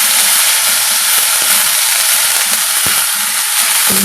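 Tomato, tamarind and cumin frying in a pan with coconut, a loud steady broadband sizzle with faint stirring clinks, no voices.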